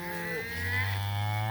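Cattle low in a tall summer pasture, one long deep moo swelling from about halfway through, with fainter bovine calls at the start against quiet field ambience.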